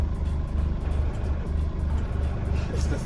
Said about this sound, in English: It's the thrust race bearing.